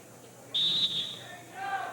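A referee's whistle blows once at a 1988 Baltimore County high school wrestling finals match, a sharp, piercing tone of about half a second over crowd murmur, with a fainter tone trailing after.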